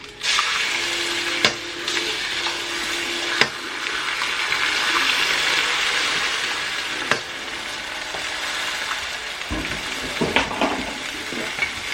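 Eggs sizzling in a pan on a high burner after bacon has cooked in it, a steady bright frying hiss throughout with a few clinks and stirring scrapes.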